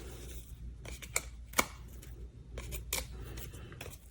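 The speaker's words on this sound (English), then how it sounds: "we'll go ahead and peel the backings off of those" Paper backings peel off small adhesive dimensionals for a handmade window card, producing soft crinkling with a few sharp, crisp snaps, close and fairly quiet.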